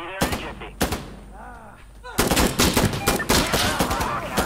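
Gunfire in the tactical shooter Insurgency: two sharp isolated shots, then a rapid volley of overlapping bursts of automatic fire, loud and close, with a player's voice talking between shots.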